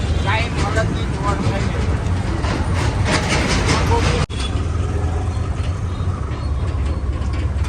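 A train rumbles past nearby with a steady, loud roar and rhythmic rail clatter, while people talk over it.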